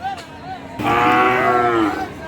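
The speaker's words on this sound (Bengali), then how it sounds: "সুন্দর সাইবাল জাতের গরুগুলি" A single loud, sustained moo from a nearby Sahiwal cow at a cattle market follows a moment of quieter background noise.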